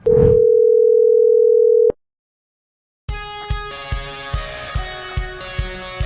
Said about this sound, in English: Dialing these numbers into the emulator and calling the number for the first time yielded this audio.